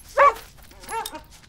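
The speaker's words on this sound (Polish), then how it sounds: "Pies ma na imię Słonko." A cartoon dog in the Polish-dubbed Bing series gives a high yip followed by a softer whimpering bark, both close and clear, with no speech over them.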